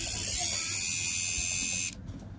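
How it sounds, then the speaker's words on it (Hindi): An electric eyebrow trimmer with its trimmer attachment fitted runs with a steady, high, thin buzz, then cuts off abruptly near the end, leaving faint room tone. "अब मैं इससे आईब्रो ट्रिम करके आपको बताती हूँ कि किस तरह ट्रिम होगा।"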